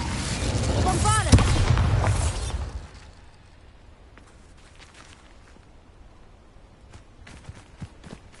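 A Bombarda explosion spell in the Hogwarts Legacy video game bursts with a loud boom and shattering debris, then rumbles away over a few seconds into a quiet tail with faint scattered clicks.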